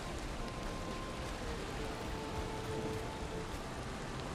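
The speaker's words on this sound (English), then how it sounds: "It's a wicked storm of ruin" A storm in the game Valheim brings steady rain, a continuous even hiss of falling drops with faint distant rumbling underneath, no voices.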